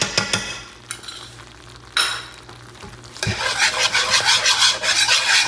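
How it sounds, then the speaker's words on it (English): Whisk scraping and stirring lobster base into a roux in a pan: a few scattered scrapes at first, then steady rhythmic raspy whisking strokes that grow louder and continuous toward the end. "We are just gonna whisk that in there."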